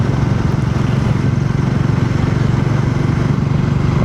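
Motorcycle engine running steadily on a road ride near Vellore, a steady close drone with no break.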